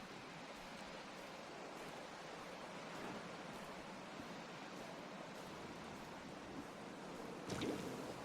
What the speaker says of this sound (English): Try to dodge these waves as we go.